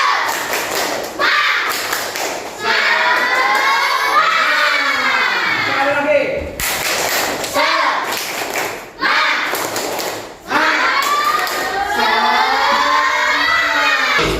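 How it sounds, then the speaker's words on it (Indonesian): Schoolchildren in a classroom perform a tepuk semangat clapping chant, loud rhythmic group claps and shouted chanting in bursts across the clip, with a teacher's voice prompting between rounds. "mari kita melakukan 2 kali tepuk semangat"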